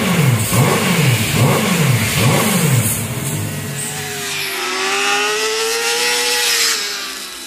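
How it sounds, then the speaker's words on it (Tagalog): A 400cc inline-four sport bike with its stock exhaust revs hard several times in a row, loud and close. Each high-pitched rise and fall sounds throaty, and the engine then holds a steady, rising whine alone. "Ito naman yung ating actual unit stock exhaust muffler sound."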